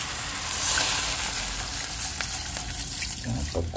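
Water poured into a pan of frying vegetables seasoned with oyster sauce and pepper, a steady broadband hiss and sizzle running throughout with a few clinks near the end.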